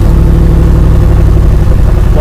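Audi RS6 C8 with an Akrapovic exhaust and its valves opened, a loud steady low engine rumble close by, holding even with a deep droning tone throughout.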